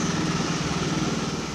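A power lawn mower drones steadily at close range, its engine holding an even, continuous buzz with a rough low rumble and no pauses.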